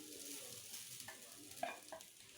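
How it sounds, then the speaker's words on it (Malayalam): Grated coconut frying in a spoonful of hot coconut oil in a pan for kappa biriyani, a soft continuous sizzle with a few stirring scrapes, moderately close with no talk. "നമുക്ക് ഈ തേങ്ങയൊന്ന് 1 സ്പൂൺ വെളിച്ചെണ്ണ ചേർത്തിട്ട് വറുത്തെടുക്കാം."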